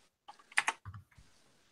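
A few quick keystrokes tap on a computer keyboard during a tabletop roleplaying session, close and faint, in a short burst followed by a lighter click.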